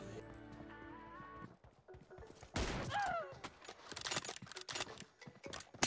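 M24 sniper rifle shots in a mobile battle-royale video game, a burst of sharp gunfire cracks and impacts amid game effects and music, close and moderately loud, with someone talking over the play.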